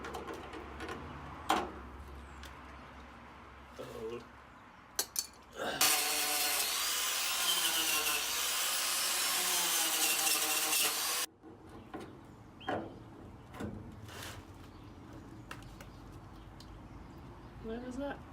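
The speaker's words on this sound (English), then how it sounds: "So I need to grind all this off and replace this section." An angle grinder bites into old perished plated-over repair metal on a Mk1 Volkswagen Jetta body, a loud sustained grinding run lasting several seconds amid quieter workshop knocks and scrapes before and after.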